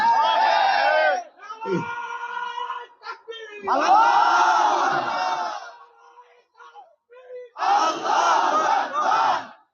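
A crowd shouts a religious slogan in unison in repeated loud bursts, with a lone voice leading between the group responses.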